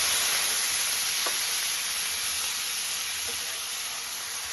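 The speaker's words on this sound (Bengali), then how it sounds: "একটু নেড়ে নিয়ে এর মধ্যে দিয়ে দেবো সামান্য পরিমাণে জল।" Water splashed into spices frying in a pan, including mustard paste, bringing a steady, even sizzle and hiss throughout, with a couple of faint clinks of stirring.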